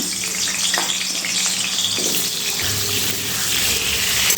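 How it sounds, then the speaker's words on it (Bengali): Potato pieces coated in salt and turmeric frying in hot oil for chicken biryani, a steady close sizzle with occasional clinks and stirring underneath. "এবারে ওই তেলের মধ্যে ভেজে নেব আমি কিছু আলু"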